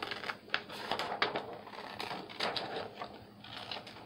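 Close, crisp snips of scissors cutting paper, a quick irregular series of sharp clicks and rustles with no talking.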